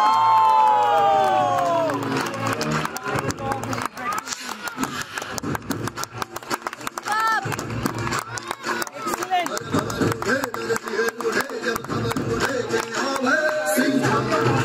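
At a St Joseph's Convent School event, a school crowd cheers and shouts continuously for instructors performing a pole mallakhamb display, loud sustained roaring with clapping and children's shouts throughout, with a voice over a loudspeaker at the start.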